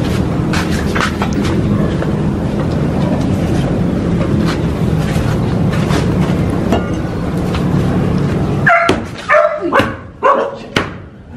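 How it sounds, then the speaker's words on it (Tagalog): A dog in a house where a cobra and rat snake turned up under the flooring barks a few times near the end, in sharp close yelps after a stretch of steady background noise. "Gulat yung aso."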